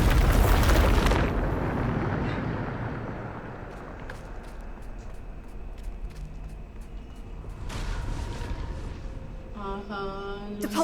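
A Bombarda spell detonates in the Hogwarts Legacy video game with a loud, heavy blast that rumbles away over several seconds, followed by scattered combat clatter and a brief game voice near the end.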